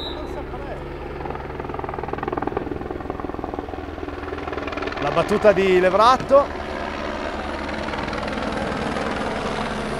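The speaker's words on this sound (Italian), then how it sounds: "Che elicottero è?" Helicopter passing over an outdoor pallone ball court during a Serie A match, a steady rotor drone throughout with a commentator speaking over it and a brief louder swell midway.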